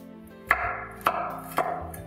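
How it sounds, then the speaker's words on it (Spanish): Garlic cloves being chopped with a knife on a cutting board, three evenly spaced, crisp close thuds against a low background hum. "Empiezo por partir los ingredientes. Aquí tengo los dientes de ajo."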